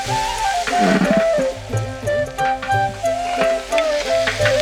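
Garlic paste frying in hot oil in a large outdoor village cooking pot for a community feast, a steady close sizzle with stirring scrapes while loud music and singing play over it throughout.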